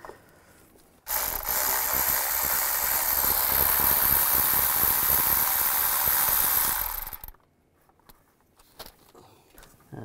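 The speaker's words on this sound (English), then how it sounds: "Use a 13mm socket." A ratchet fitted with a 13mm socket works loose the wire nut on the starter of a 2002-2009 Chevy Trailblazer, giving a steady, close, loud run of clicking and rubbing for about six seconds, then stopping.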